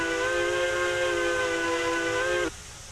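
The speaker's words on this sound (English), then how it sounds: "it's not the greatest whistle I've ever heard for these engines" A steam locomotive whistle in the video game Railroads Online blows a steady, sustained chord, then cuts off abruptly, leaving only a faint hiss.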